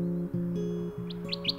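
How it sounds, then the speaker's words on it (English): A Kirtland's warbler sings in short bright chirping phrases, several quick notes repeating near the end, heard faintly over a steady low hum and tonal background. "The Kirtland's warbler, the rarest migratory songbird in North America."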